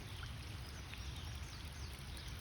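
Rainwater runs down a road in a steady, broad wash of flowing water, continuous and moderately quiet, with no voices.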